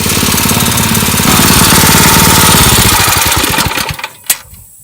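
A Harbor Freight Predator small engine fitted to a Cub Cadet garden tiller runs loud and close with a rapid chugging beat, then slows and sputters to a stop near the end.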